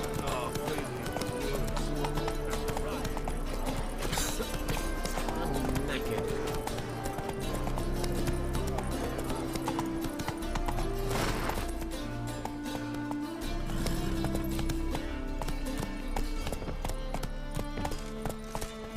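A horse gallops in The Witcher 3: Wild Hunt, its hooves clip-clopping in a steady rhythm throughout, partly masked by game music and someone talking over it.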